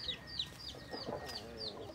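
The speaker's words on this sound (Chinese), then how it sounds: "大公鸡，这些鸡" Chickens and a rooster cluck in a Lao village, giving a few soft, quick clucks and chirps spread across a short moment at a moderate distance, with no speech.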